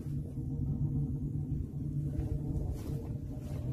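Wood fire roars inside an upside-down gas-cylinder camping stove, producing a low, steady rumbling draft close by with no voices.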